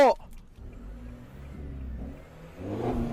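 A lowered 2020 four-door pickup with a 1.9 engine idles with a low exhaust rumble, then revs up near the end, with a brief voice at the start.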